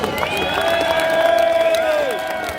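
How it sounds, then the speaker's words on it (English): Crowd at a London street march against Starmer breaking into sustained clapping and cheering, with whoops and shouts rising over a dense, close wash of applause. "Give yourself a massive round of applause."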